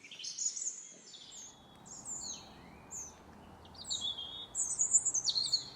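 Young wrens in the British countryside call in high, thin chirps and tweets that come in scattered bursts, faint to moderate and a little distant over a soft background hush, with no voices.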